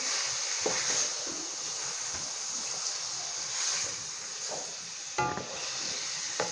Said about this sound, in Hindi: इसे हम अच्छे तरीके से भून लेंगे।